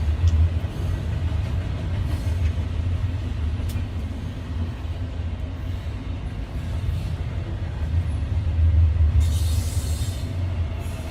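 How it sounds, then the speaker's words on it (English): A long freight train rolls past at night with a mid-train locomotive at full throttle, producing a steady heavy low rumble and grinding that swells louder toward the end, with no talking. "this is the second or third train that's passed by just tonight that's had a midway engine running at full throttle"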